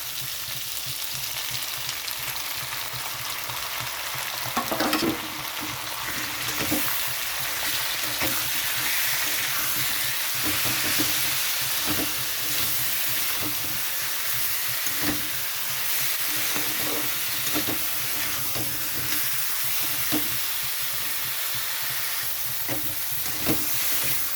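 Potatoes and ginger fry in a pan as spices go in for a vegetarian cauliflower curry, giving a steady close sizzle with occasional stirring scrapes and clatters.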